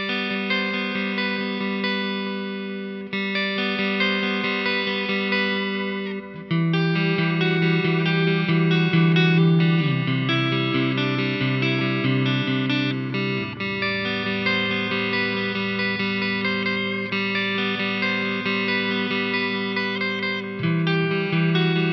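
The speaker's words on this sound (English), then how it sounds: "I've got an MXR carbon copy delay in the loop" Distorted electric guitar through a Joyo Zombie 2 amp with an MXR Carbon Copy analog delay in the effects loop, playing sustained chords and riffs loudly throughout, with echo repeats trailing each note.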